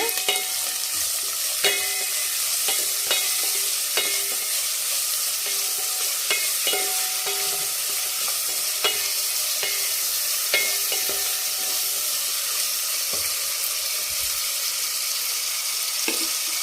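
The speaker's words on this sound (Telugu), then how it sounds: "ఉల్లిపాయ బాగా వేగాలండి" Onions frying in a pan with salt, a constant crackling sizzle broken by regular clicking strokes of a spoon against the pan, close and unbroken by talk.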